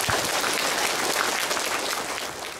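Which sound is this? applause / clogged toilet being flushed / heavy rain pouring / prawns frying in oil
applause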